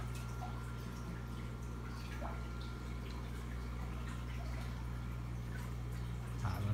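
Water trickles and drips steadily during an aquarium water change, with occasional gurgles and splashes over a constant low pump hum, close and moderately quiet, with no talking.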